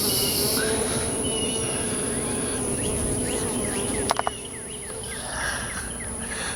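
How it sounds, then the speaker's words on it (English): Honey bees buzz steadily inside a hollow tree hive, a dense continuous drone heard up close, with a few quick clicks partway through and the hum easing slightly afterward. "This tree has a hive. You can hear them in there."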